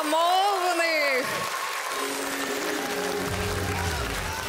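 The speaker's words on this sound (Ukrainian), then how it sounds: "Це оплески для вас." Audience applause at a televised gala concert on a talent show, broad clapping rising under a voice that talks over it.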